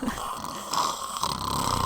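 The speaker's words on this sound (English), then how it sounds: "Within seconds, he's snoring way too loud for it to be real." A video game character lets out loud, exaggerated, theatrical snoring, a steady rasping drone that is over-the-top rather than natural.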